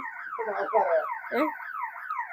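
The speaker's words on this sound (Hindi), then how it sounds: "और यहाँ पे अलार्म ऑन हो गया" A car alarm wails through a repeating cycle of rising and falling electronic tones, loud and close, with no talk over it.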